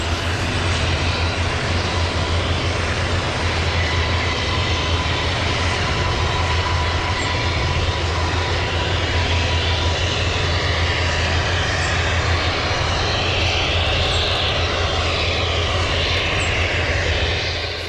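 A modern helicopter taxiing gives a loud, continuous engine and rotor roar that holds steady throughout with no break and no voices.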